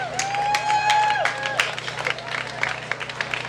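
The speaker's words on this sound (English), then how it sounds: "a big round of applause for the appreciation for all of their support in our community" Applause and cheering from a crowd at an outdoor community awareness walk, broad clapping noise spread through the clip, with a brief voice and some whistle-like tones early on.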